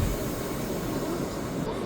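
Inside a subway train in Japan, a steady loud rumble of the moving carriage fills the short stretch, with no talk over it.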